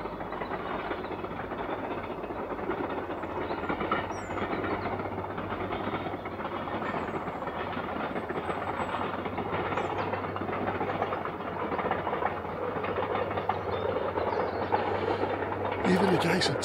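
A ride aboard the Hogwarts Express steam train: a steady, continuous rumble of the moving carriage with a faint clickety-clack runs throughout at even loudness, with a brief louder rattle near the end.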